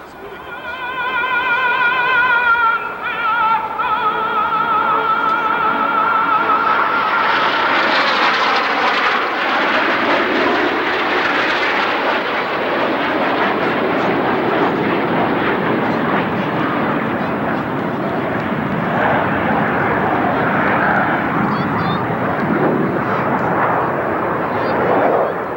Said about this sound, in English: A simultaneous attack to the field being done by 9 aircraft.